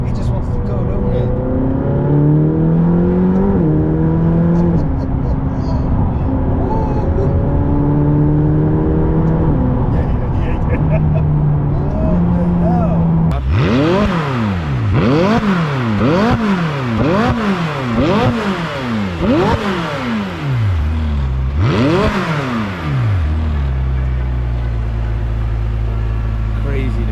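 A McLaren 600LT supercar accelerates hard through its seven-speed gearbox, the engine note climbing and dropping in repeated sharp upshifts, loud and close, with speech heard beneath the roar.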